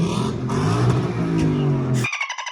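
Car engine revving hard at a car meet, a loud close roar with rising pitch that cuts off abruptly, followed by a brief burst of higher-pitched noise.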